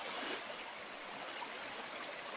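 Steady, even rush of flowing water fills a Bengali moral-story cartoon scene, continuous and fairly loud with no breaks or other sounds.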